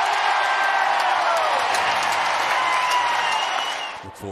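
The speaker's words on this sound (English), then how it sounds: "listen to this crowd." A baseball stadium crowd at a Padres game roars and cheers loudly and continuously, with whoops and whistles over the wash of noise, fading slightly at the end.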